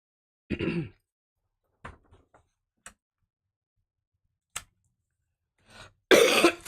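A few isolated coughs and throat-clearing sounds break a mostly quiet room, with small knocks in between and a louder burst at the end.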